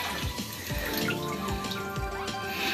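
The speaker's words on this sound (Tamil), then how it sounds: "சட்டை எடுத்து நம்ம பக்கெட்டில் ஆட் பண்ணிக்குவோம். நல்லா தண்ணியில் அலசிட்டு அப்படி புளிஞ்சி வச்சிட வேண்டியது" Water sloshes and splashes steadily as a white shirt is swished and rinsed in a bucket, with continuous close liquid movement and small drips throughout.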